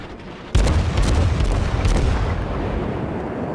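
Admiral Hipper's quick-reloading 203 mm guns fire in World of Warships with a sudden loud boom, followed by a rumbling roar and scattered crackling impacts that slowly fade.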